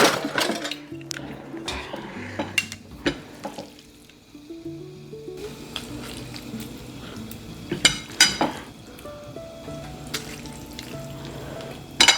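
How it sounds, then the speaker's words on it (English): Cut-up roast meat going into a pot of simmering gravy, with scattered utensil clinks and scrapes against the pot over a low bubbling sizzle, moderately loud and close. "I'm gonna go ahead and put the meat into the gravy and let that all thicken up together"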